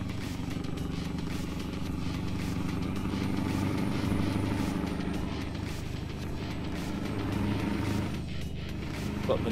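A Scania truck fitted with a sound mod in Euro Truck Simulator 2 holds a steady, even engine drone, with a thin, faint high whistle running faintly above it throughout.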